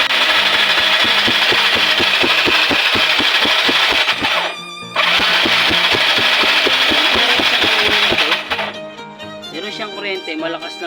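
A Yamaha Mio Sporty scooter that will not start, its engine being cranked with a fast, rhythmic mechanical chatter, loud and close. The chatter pauses briefly, resumes, then stops, leaving quieter clattering and a voice at the end.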